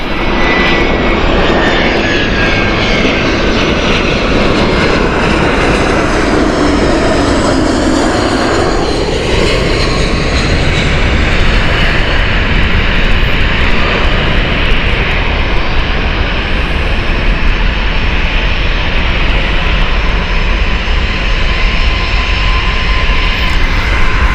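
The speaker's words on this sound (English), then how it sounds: "Here is the Vueling arrival." Vueling jet airliner arriving at Gatwick Airport, a loud continuous engine roar with a sweeping tonal whine that shifts midway, steady and close throughout.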